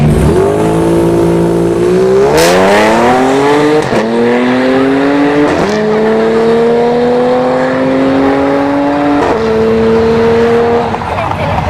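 A Genesis G70 3.3 turbo launches down a drag strip, its engine revving hard through rising gear pulls with sharp shift breaks, loud and sustained, with a voice talking over it.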